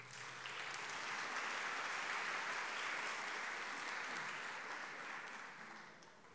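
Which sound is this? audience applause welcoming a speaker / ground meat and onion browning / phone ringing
audience applause welcoming a speaker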